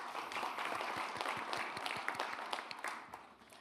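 An audience at a Korean government meeting on capital market stabilization claps steadily, a dense wash of applause at moderate distance that slowly tapers toward the end.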